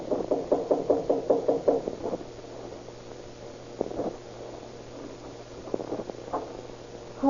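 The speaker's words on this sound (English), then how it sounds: "Just go up the stairs and knock on the door on the left." Knocking on an apartment door in an old-time radio drama, a quick run of about eight firm raps at the start, followed by quieter scattered thuds and shuffling over a low hum.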